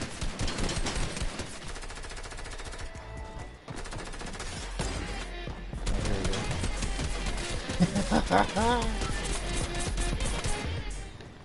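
Gunfire in Fortnite, rapid automatic bursts and single shots crackling loudly and almost continuously, layered with game effects and background music, with a voice talking intermittently.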